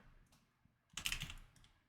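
A computer keyboard with keys that double-register clatters softly: a few scattered taps, then a quick dense burst of keystrokes that tapers off, close and quiet.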